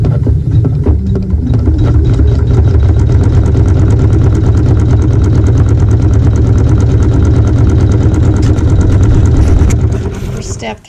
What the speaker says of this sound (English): the machine will sew a zigzag stitch to tack that to the battleizer